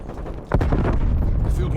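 A heavy explosion bursts midway through a Call of Duty: Black Ops Cold War 4v4 match, a sudden deep boom that rumbles on, with a player talking underneath.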